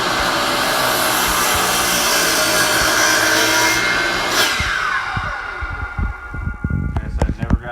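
Miter saw cutting through a board, a loud steady motor whine and cutting roar running for several seconds, then spinning down into scattered knocks and handling clatter.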